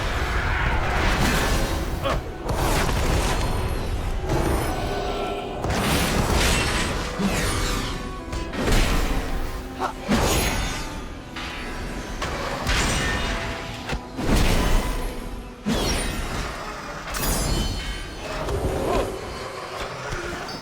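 A cannon fires repeatedly in the video game World of Warcraft, producing a steady series of heavy blasts and crashing impacts every second or two, loud and continuous over about twenty seconds.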